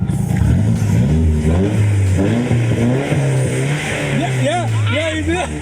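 Close, loud engine revving from a JDM car fitted with an adjustable exhaust, the pitch climbing and dropping in several blips, with voices talking over the sound.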